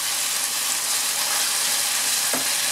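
Chicken for chicken varuval fries in a pan with a loud, dense, continuous sizzle and a brief scrape partway through, with no talking.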